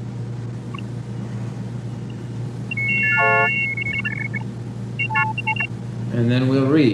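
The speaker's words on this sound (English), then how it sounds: "a kind of scanner that would look at text and turn it into a series of tones" Optophone reading device from 1971 scanning a line of printed text, turning it into short clusters of beeping tones and chirps over a steady low hum, with a voice speaking briefly beforehand.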